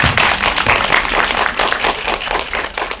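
Audience at a film premiere Q&A claps in a dense, sustained burst of applause, close and fairly loud, with no one speaking over it.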